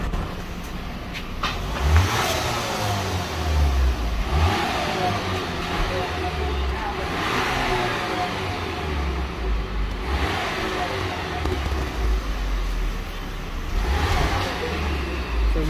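A Skoda Laura with stock exhaust before a muffler delete, its engine revving in repeated rises with turbo flutter, recorded up close, with someone talking over it at times.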